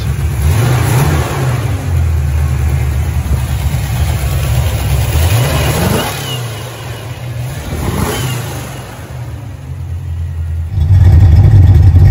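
A 1990 Ford Mustang GT Foxbody V8, converted from fuel injection to a carburetor, runs loudly with a steady rumble, rising and falling through several revs before a harder, louder rev near the end.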